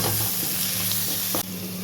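Ginger garlic paste frying with onions in a pan for a crab masala gravy, a steady close sizzle with stirring scrapes throughout, dipping slightly near the end.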